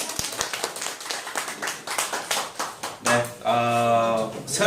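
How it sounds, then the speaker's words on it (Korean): Audience claps loudly at the start of a Korean lecture on classical astronomy, a dense patter lasting about three seconds before a sustained tonal sound takes over. "박수도 크게 합니다"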